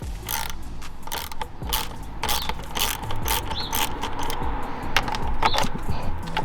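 A ratchet loosens the intake hose clamp on an 11th-generation Honda Civic, giving a loud, close, rapid series of clicking pawl bursts in quick repeated strokes throughout, with no talk.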